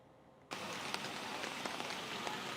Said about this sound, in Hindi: क्योंकि लगातार बारिश हो रही है